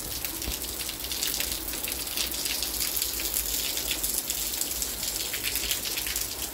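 Heavy rain downpour pouring steadily outdoors as a passing storm clears, a dense continuous hiss of drops with pattering impacts on surfaces, loud and unbroken for the whole stretch with no voices.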